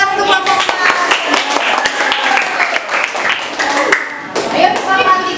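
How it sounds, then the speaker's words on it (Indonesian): Schoolchildren in a classroom clap for a group of classmates, a loud, close, uneven burst of many small hands with children's voices mixed in. "Tepuk tangan untuk kelompok 4."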